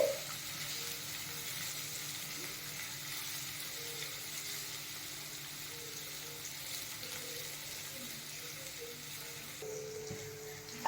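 Finely chopped onion sizzles steadily in a hot pan for a kaju curry, a continuous, even frying hiss with no talk over it.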